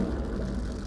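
Racing car engine fed by six carburetors, heard as a steady, dense low rumble that holds constant through the short moment with no talking.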